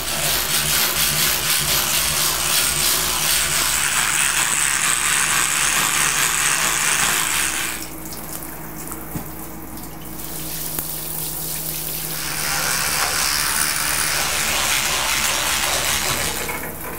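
A Rubbermaid Power Scrubber scrubs tile grout with a steady, close, loud whirring hiss that stops for a few seconds in the middle, then resumes.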